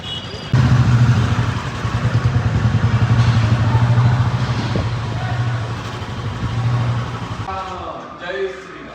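A motorbike engine idles and revs steadily close by as it is ridden into a parking area, a low continuous rumble that cuts out near the end, with a voice talking over it.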